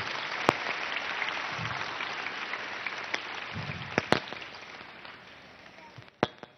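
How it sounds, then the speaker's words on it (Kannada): Applause from a gathered audience at the Public TV tenth-anniversary event at Siddaganga Math, steady and moderately distant, broken by a few sharp cracks and thumps, with faint voices under it. "ನಿಮ್ಮೆಲ್ಲರ ಜೋರು ಚಪ್ಪಾಳೆಯೊಂದಿಗೆ"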